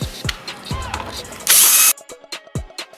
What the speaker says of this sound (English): So you take out these screws. Alright, then from here, take out this one as well.